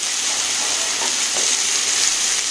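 Eggplant slices for begun bhaji fry in a pan with a loud, constant sizzling hiss and faint stirring touches, close up with no voice.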